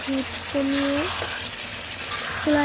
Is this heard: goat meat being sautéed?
yes